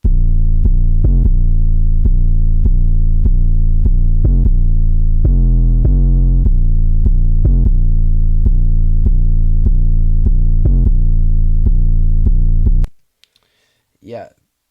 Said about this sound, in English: so here's the first 808 pattern.